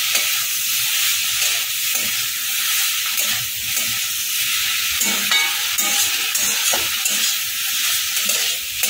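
Pointed gourd curry, a Bengali kanda potol dish with a little sugar, stirred in a pan over steady loud sizzling and hissing frying, with scattered scraping and clinking strokes throughout.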